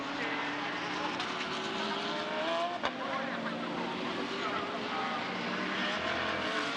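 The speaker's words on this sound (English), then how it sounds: "the cars sprint down towards Dunlop" GT race cars in a Blancpain GT Series Asia race at Fuji roar down the straight, engines droning loudly and steadily with rising pitch as they pass, one sharp knock midway.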